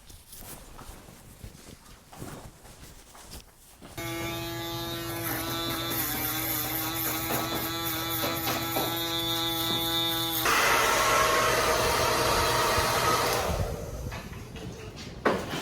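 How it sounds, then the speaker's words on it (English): Electric hair clippers buzz close and loud during a first taper fade haircut, running steadily for about ten seconds, then the tone shifts and fades as the clippers are pulled away, with no talking over them. "Now we're over here about to get a haircut."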